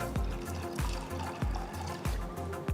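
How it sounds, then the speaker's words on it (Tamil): Water poured over soaked green gram in a pressure cooker, a steady close splashing pour with faint regular pulses throughout, no voices. "பயிறு முழுகிற அளவுக்கு தண்ணி ஊற்றி"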